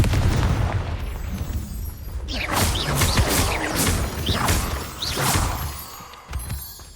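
An explosive Confringo spell blast in the Hogwarts Legacy game, a loud crashing boom followed by crackling, whooshing bursts and debris-like smashes that fade out.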